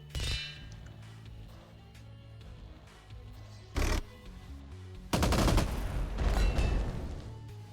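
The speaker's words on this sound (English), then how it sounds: "there go my mortars" Mortar fire in the strategy video game Empires Shall Fall, a few sharp impacts and clanging blasts separated by quieter stretches, ending in a louder sustained burst of explosions over a low game music bed.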